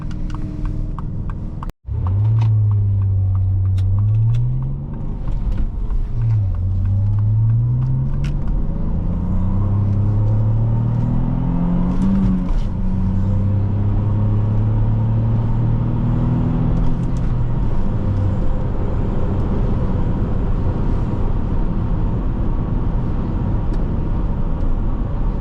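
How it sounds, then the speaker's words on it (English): A 2006 Saab 9-3 Aero SportCombi accelerating hard from a standstill, engine drone rising in pitch through several gear changes with brief dips between them, loud and steady inside the cabin. "let's get out our RaceBox and we'll do a 0 to 60 test down there"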